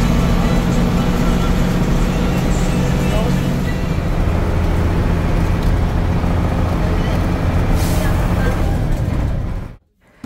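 A bus rumbles along a road at night near Bandarbans, a loud, continuous engine drone and road roar that stays heavy and even throughout, then cuts out abruptly at the end.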